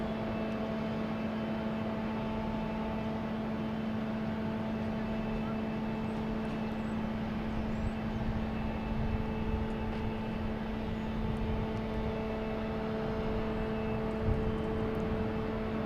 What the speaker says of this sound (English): All right, landing gear coming down.